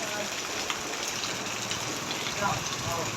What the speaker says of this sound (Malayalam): പെരുഞ്ചാതി മഴ